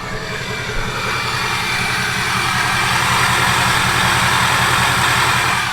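A 6.0 Powerstroke diesel truck engine idles steadily with a low, throbbing rumble and a constant rattle, running loud and close for the whole stretch with no voices.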